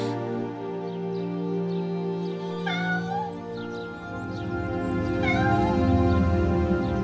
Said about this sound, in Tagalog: kaninong pusa ito?